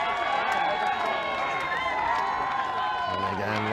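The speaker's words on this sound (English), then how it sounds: "this Burnside crowd over that far side is incredibly vocal" Vocal Burnside supporters shout and cheer at a premier-grade rugby preliminary final, a dense wash of crowd voices and whistles carrying steadily throughout, with a low rumble entering near the end.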